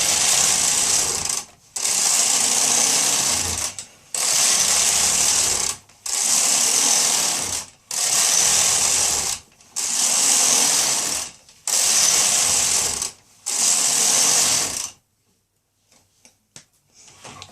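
A Bond knitting machine carriage is pushed back and forth across the needle bed, producing seven evenly spaced loud rasping passes about two seconds each, separated by short pauses, then quiet handling clicks.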